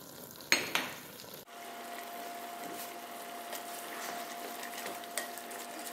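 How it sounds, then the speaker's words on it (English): Diced onions cooking down in a pan, a soft even sizzle running steadily after a couple of sharp clanks at the start, moderate and close with no talk. "2 onions diced. And we're just going to let that cook down."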